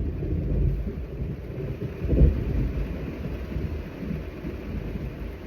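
A thunderstorm rumbles low and steady, with one brief sharp crack of thunder standing out near the middle over a continuous wash of rain and wind.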